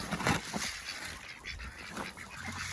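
Geese honk and ducks quack close by in a farmyard at feeding time, a busy, uneven cluster of calls over a breezy outdoor background.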